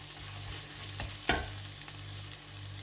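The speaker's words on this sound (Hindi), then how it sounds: "फ्राई करेंगे प्याज के साथ।" Onion frying in oil in a pan for a yogurt brinjal masala, a steady sizzle with a low hum underneath and a few sharper clanks of stirring, close and fairly loud with no talking.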